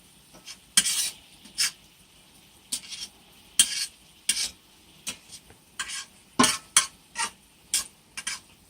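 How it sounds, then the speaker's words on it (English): Cipollini onions being stirred around in a pan as a syrupy Italian agrodolce glaze forms, with repeated rhythmic scraping strokes of moderate loudness, close by and with no talking. "Just going to keep stirring them around."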